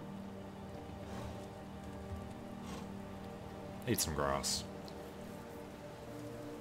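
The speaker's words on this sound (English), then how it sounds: "they even do the rain hitting the river effect" Soft, steady hiss of rain falling on a river in the video game Kingdom, a continuous wash beneath game music and a voice talking, with a brief louder sound effect midway.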